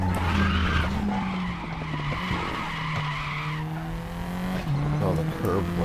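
Race car in the RaceRoom racing game braking hard on a curb, a loud steady engine drone with tire skid and squeal running through it, close and continuous.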